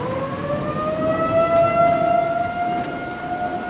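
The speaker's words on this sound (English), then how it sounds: "I love it when the siren gets really loud." A loud civil-defense-style siren wails through a lightning storm, its steady tone slowly rising in pitch and carrying clearly over a low background rumble, with no talking.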